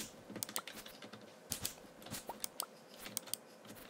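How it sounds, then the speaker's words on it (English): Grass being cut in the farming game Stardew Valley, a rapid series of soft clicky swishes and short rising chimes, close and fairly quiet, with no voices. "Let's cut the grass. Here's some more grass, let's cut it."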